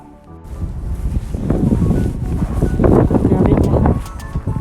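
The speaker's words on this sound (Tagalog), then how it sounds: "Pakita ko lang sa inyo guys kung gaano kalakas yung hangin." Strong wind gusts roar and buffet the microphone outdoors near a parking area during a snowstorm, swelling louder midway, while someone speaks over the noise.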